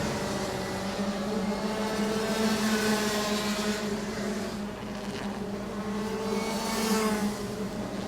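Rotax Max go-karts racing in a Junior class event in Thailand, a continuous high engine drone from several karts close together, steady and loud throughout.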